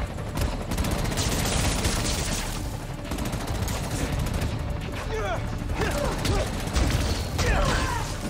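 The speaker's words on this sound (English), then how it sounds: "Who's shooting?" Gunfire in the Spider-Man: Miles Morales video game, a dense, continuous barrage of rapid shots with mechanical clatter under steady game ambience.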